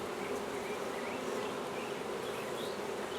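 Honey bees buzzing around an open hive, a continuous close drone with occasional individual bees whining past.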